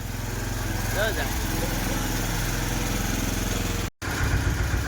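A tractor engine runs steadily nearby with a low, chugging drone, a voice briefly heard over it, and a momentary cutout near the end.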